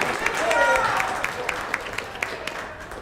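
Applause from an audience at a high school event, a short burst of scattered claps that thins out over a few seconds while a voice speaks over a PA.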